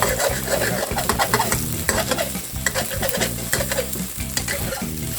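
Eggs frying in a pan while being stirred, a loud continuous sizzle broken by rapid rhythmic scraping and clattering of a utensil against the pan, close up.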